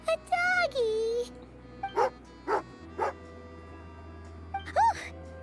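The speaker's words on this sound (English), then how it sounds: "Oh, a doggy." An angry dog in a video game barks and yips several times in short, separate bursts, close and clear, mixed with whimpering cries over a low background hum.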